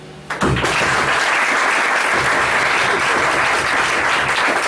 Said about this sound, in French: faire pleuvoir vos applaudissements de tonnerre envers les professeurs